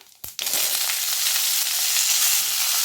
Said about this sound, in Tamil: இப்போது சீரகம் பொரிஞ்சோன்னே இப்போ காலிஃப்ளவரை சேர்த்துடலாம்.